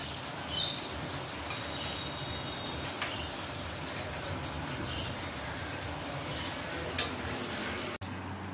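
Fish frying in hot oil in a home kitchen, with a steady, moderately quiet sizzle running throughout and a few small pops and clicks.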